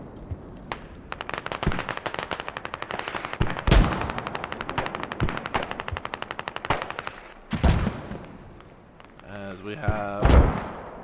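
Sustained rapid automatic gunfire and heavy blasts fill a Squad match, with mortar shells impacting on the north side of an intersection as loud booming explosions. A voice briefly speaks over the battle noise.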